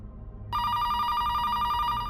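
A telephone starts ringing abruptly about half a second in, then sounds a steady, bright electronic ring that continues at a constant level to the end over a low background hum.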